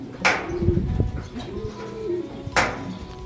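A racing pigeon coos close by in low, throaty bursts, with a couple of sharp clicks or knocks in between.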